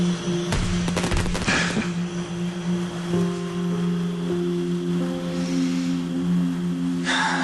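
Bursts of rapid crackling pops, like fireworks, rattle in quick clusters over a steady mechanical hum, with a few scattered bangs later.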